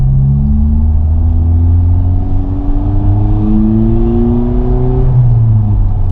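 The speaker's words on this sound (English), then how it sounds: "I'm really liking this muffler delete" A 2021 Honda Civic Type R FK8 in R mode with a muffler-delete exhaust and the resonator retained revs up hard, its loud droning tone climbing steadily for about five seconds before dropping back, heard close and continuous without talk.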